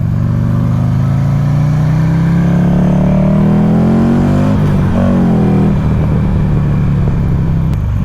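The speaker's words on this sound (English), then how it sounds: "that beautiful, beautiful sound of that V-twin engine" Buell XB9 motorcycle with a V-twin engine revs up nearby, a loud throbbing rumble rising in pitch, then dropping back with some clatter as it settles toward idle.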